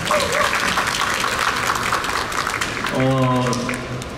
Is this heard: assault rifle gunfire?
no